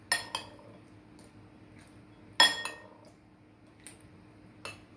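Metal utensils clink and scrape against a bowl while a gelatin mixture is stirred, a few sharp chinks spaced irregularly, close by and fairly quiet, with no talking.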